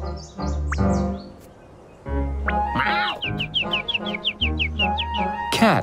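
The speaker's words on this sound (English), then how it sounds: "But the birds kept noisily chirping." Bright chirping birdsong in rapid repeated tweets over a musical backing, with a cluck-like call early on, lively and fairly loud.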